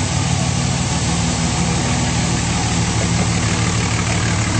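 A lifted 2006 Dodge Ram 2500 with a 5.9L diesel and a Banks Ram Air intake idles steadily and smoothly, a close, even, continuous rumble with no voices.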